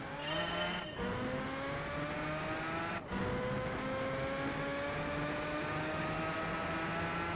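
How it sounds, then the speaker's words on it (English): In Gran Turismo 5, a race car engine drones loud and constant at high revs, the pitch climbing steadily with two abrupt dips where the car shifts gears. "It sounds like we're racing an F1 car."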